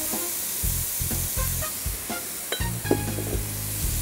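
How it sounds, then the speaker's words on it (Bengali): Macaroni tipped into a hot pan for a classic macaroni recipe sets off a loud, steady sizzle, broken by bursts of frying and scraping as it is stirred, with no talking. "এবার আমরা ম্যাকারনি দিয়ে দিচ্ছি।"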